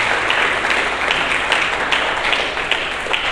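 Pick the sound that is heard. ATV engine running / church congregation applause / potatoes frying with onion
church congregation applause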